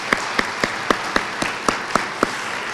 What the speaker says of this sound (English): I'm just going to pause and clap for that